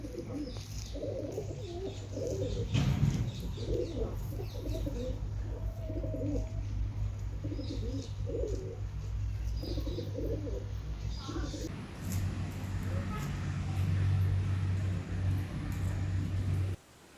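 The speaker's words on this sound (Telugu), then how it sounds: "ఆ తర్వాత కొన్ని పావురాలు కూడా కనిపించాయి చూడండి." Pigeons coo repeatedly in a mini zoo deer park, a rhythmic series of low, soft calls close by, with steady outdoor hum and faint distant traffic underneath.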